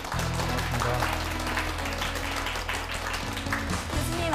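Audience applause welcomes a university professor onto the stage of a Korean lecture show, a steady dense wash of clapping throughout with a low music bed underneath and some voice mixed in.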